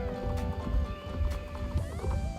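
Horse hooves clip-clopping and a whinny from the video game Star Stable Online, with layered music-like tones running steadily throughout at moderate volume and no talking.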